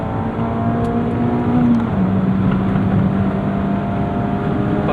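A 2021 Mazda Miata RF GT ND2 with an upgraded cam and tune hums steadily from the cabin, its engine note holding a sustained drone that drops a step partway through, like an upshift under acceleration.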